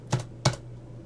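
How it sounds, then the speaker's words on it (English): Two crisp keystrokes on a computer keyboard, spaced about a third of a second apart, close and isolated in a quiet room. "and I'll type in my general notes"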